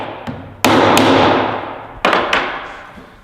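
Wooden half lap joint pieces forced together with two sharp, loud knocks roughly a second and a half apart, each followed by a long ringing decay, close by with no talk.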